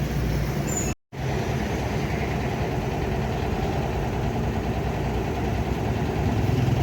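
A steady low engine rumble from an idling 270 van, running continuously with a brief dropout near the start, no voices over it.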